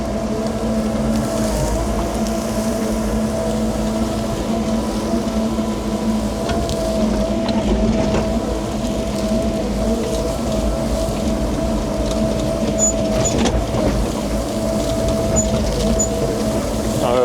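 A 2-ton excavator's engine runs steadily with a loud, continuous low drone and harmonic hum, its throttle raised, with no talk over it.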